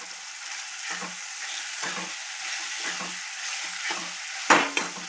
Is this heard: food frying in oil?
yes